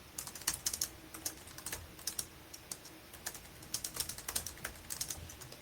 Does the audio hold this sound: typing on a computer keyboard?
yes